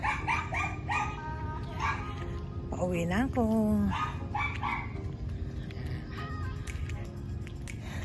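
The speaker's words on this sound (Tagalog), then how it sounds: "Kahit maliliit lang yung aso na yan, nakakatakot din." Small dogs bark, yip and whimper on an outdoor walk at Sangley Point, Cavite, a few close, high-pitched yaps mixed with a brief whining cry, heard under a person's talking and street background.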